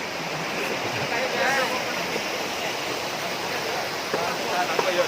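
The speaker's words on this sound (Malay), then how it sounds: "Ada air terjun rupanya guys." A waterfall at Kauman Pisang in Labuhan Haji, South Aceh, gives a loud steady rushing roar throughout, with faint voices and brief sounds over it.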